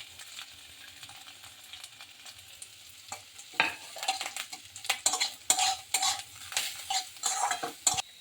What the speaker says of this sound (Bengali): তিলটা যাতে খুব সুন্দর করে ভাজা হয়